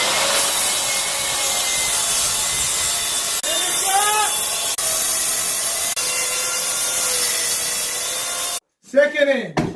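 A saw cuts along the edge of an African walnut board with a steady, rasping scrape that runs for several seconds, then pauses before a short burst of louder cutting at the end.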